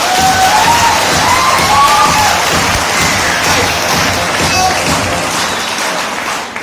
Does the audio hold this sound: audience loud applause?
yes